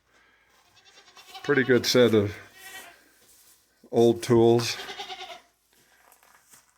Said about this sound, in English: Have to excuse the goats, they're wanting to tell me it's supper time.